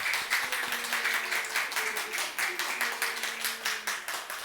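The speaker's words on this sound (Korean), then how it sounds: "힘차게 박수하시면서 축복하시겠습니다." Church congregation clapping during a Sunday service after an infant baptism, a steady rhythmic patter of many hands with voices speaking faintly underneath.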